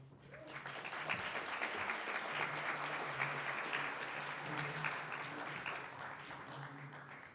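A steady wash of audience applause welcomes a singer about to perform the national anthem at the Innovation Summit 2018, swelling quickly and holding even for several seconds in a large hall.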